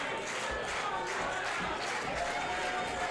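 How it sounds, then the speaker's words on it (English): Wrestling crowd at an indoor show cheering and rallying behind wrestler Ricky Starks, a dense steady roar of voices and shouts with scattered clapping throughout. "This crowd, though, rallying behind Ricky Starks"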